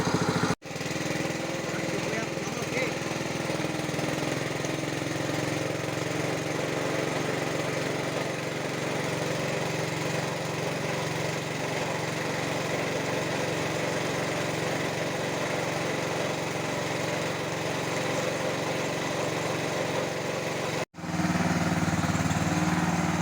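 A small gasoline water pump engine at a resort runs at low throttle, a steady, close mechanical drone that holds evenly for about twenty seconds, broken by a brief dropout near the start and another near the end.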